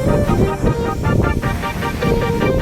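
Waves washing onto Manila Bay's Dolomite Beach among water lilies, a continuous rushing surf mixed with wind and background noise while someone talks over it.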